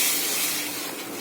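Dal tipped into a hot kadai in a home kitchen sizzles with a broad, steady hiss that fades slightly over about a second, heard up close with no talk.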